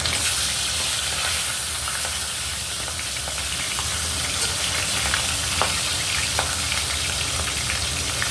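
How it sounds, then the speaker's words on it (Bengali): Rohu fish heads fry in hot oil with a loud, continuous sizzle and crackle, and faint stirring scrapes and pops surface now and then. "মাছের মাথাগুলো আমি ভালো করে ভেজে নেবো"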